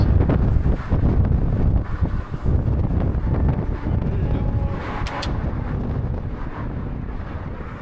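Strong spring wind gusting hard across an outdoor walking route, buffeting the microphone with loud, continuous roaring rushes that ease slightly toward the end.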